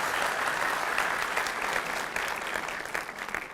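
Audience applause at a talk, a dense steady clapping from many hands filling the room, close and fairly loud, tapering slightly at the end.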